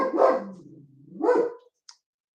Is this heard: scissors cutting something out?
no